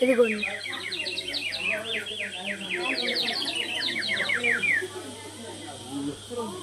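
A water-filled whistle blown to imitate sparrows gives rapid warbling chirp trills in repeated bursts, bright and fairly close, while people talk over it.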